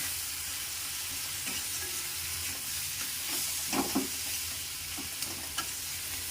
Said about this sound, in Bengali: দিয়ে আমি এগুলোকে ভালো করে কষিয়ে নেব।